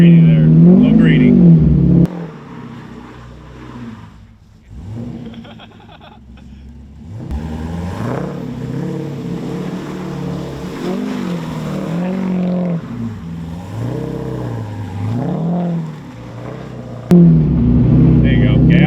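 A 500-horsepower C5 Corvette revs in rising and falling surges while doing donuts, its engine note swelling and dipping over many seconds, with people talking over it.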